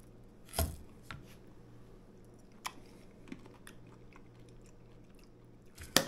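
Sparse, crisp crunches of someone chewing raw cabbage, a few sharp bites standing out against a low steady hum.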